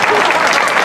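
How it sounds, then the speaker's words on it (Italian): Applause from a festival crowd at an outdoor religious feast, a brief dense burst of clapping, loud and close, with faint voices mixed in. "fate un applauso come si deve"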